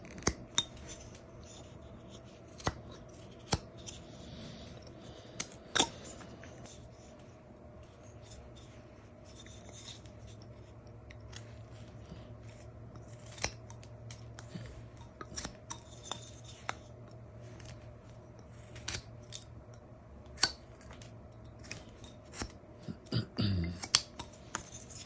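A knife whittles a small wooden lighthouse carving, trimming the sides along a seam with faint scattered scraping clicks and short cuts, quiet and close over a low background hum.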